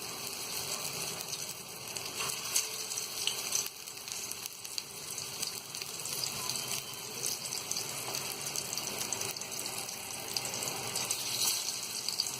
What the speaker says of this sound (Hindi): इसे अच्छी तरह हम पलट कर गोल्डन ब्राउन होने तक फ्राई कर लेंगे।